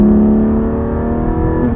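A Porsche Cayman GT4's 4-liter flat-six engine revs steadily with a rich, droning tone, loud and close, holding a sustained rumble throughout.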